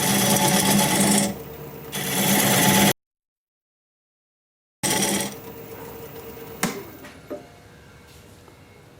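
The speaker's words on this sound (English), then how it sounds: "I'm going to go with this diamond point tool to create the dovetail on my tenon." A wood lathe turns a burned cedar stump as a diamond point tool cuts a dovetail on the tenon, giving a steady close whir with scraping, broken by a gap of silence before the spinning resumes with a few sharp taps.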